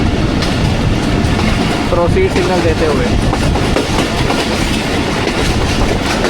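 Jaffar Express train running on rails between Attock City Junction and Rawalpindi, heard from on board as a loud, steady rumble with clickety-clack of the wheels, while someone talks over it and a brief tonal whistle or squeal sounds midway.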